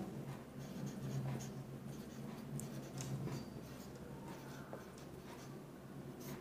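Pen or chalk scratching out chemical symbols such as C and S, a soft continuous scribbling with short strokes and pauses, faint and close, no talking.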